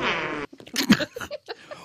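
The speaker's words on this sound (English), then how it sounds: "home of the patented 204 FM fart keyboard" Radio station's novelty fart keyboard firing off fart sound effects: one long buzzy blast followed by a string of short sputtering pops, loud and close.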